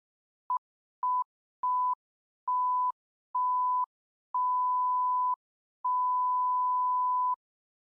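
Beep sound effect from a set of cheap stock sound effects: seven clean electronic tones at one steady pitch, starting as short blips and growing longer, ending in a sustained tone, alone in silence.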